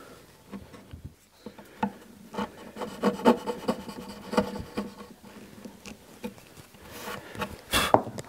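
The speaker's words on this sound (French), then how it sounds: "c'est du platane, c'est relativement facile à travailler au ciseau à bois" A wood chisel cuts into plane tree wood, producing a close series of irregular scraping, rasping strokes and taps with a louder sharp scrape near the end.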